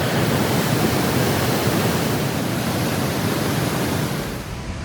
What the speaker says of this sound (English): from the bridge, right upstream, you can see Vernal Fall.